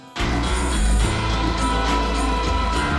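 Music kicks in after a brief silence, with bright strummed steel-string guitar layered into a full, sustained arrangement.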